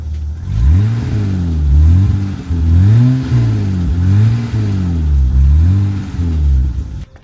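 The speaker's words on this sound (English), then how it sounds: "We do have an aftermarket exhaust on there, so that's pretty sweet to have." A 1987 BMW 325i E30 convertible engine with an aftermarket exhaust revs repeatedly, loud close blips rising and falling in a regular rhythm, about five swells before it settles.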